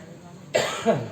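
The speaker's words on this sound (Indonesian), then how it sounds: "Campur batuk." A single harsh cough bursts out after a quiet stretch, followed by a second throaty cough, close and fairly loud.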